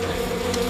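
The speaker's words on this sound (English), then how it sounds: "there's a swarm of killer alien bees right outside that door" A steady droning buzz of a swarm of bees, continuous and fairly close, with no other sounds standing out.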